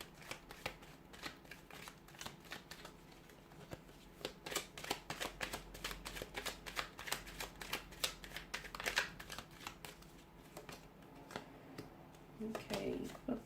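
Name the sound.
shuffling tarot cards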